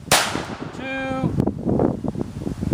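A single sharp crack of an Aguila Supermaximum Hyper Velocity .22 LR rifle shot opens the clip, close and loud, followed by a brief ringing tone and then indistinct voices and handling noise.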